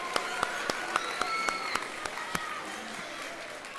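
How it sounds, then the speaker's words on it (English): Students at a Las Vegas homecoming assembly give a round of applause for Hell's Kitchen winner Chef Parker, a steady wash of crowd clapping punctuated by a few sharp, louder nearby claps and faint talk underneath. "Let's give Chef Parker one more round of applause."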